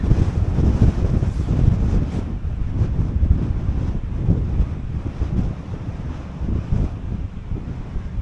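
Strong wind buffets the microphone over rough, choppy water on Loch Etive, heard from a RIB pushing against wind and tide; a loud, continuous low roar with surging gusts and no speech.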